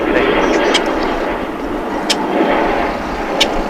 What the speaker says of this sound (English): And here comes the Finnair flight from Helsinki. It's an Airbus A380, completing its transatlantic journey.